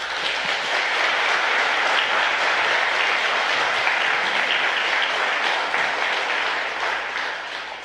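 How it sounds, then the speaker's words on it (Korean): A church congregation at a Sunday morning service claps warmly as the pastor comes forward, a dense, even applause that holds steady and then starts to fade near the end. "우리 박수로 목사님 나오실 때 맞이할 수 있기를 바랍니다"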